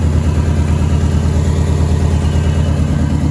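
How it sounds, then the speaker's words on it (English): A 2005 Subaru Impreza engine idles loud and close with a steady low rhythmic chug; the beat wavers slightly with an uneven lope, running rough like a bad coil. "It does have a little lope every once in a while, like a bad coil"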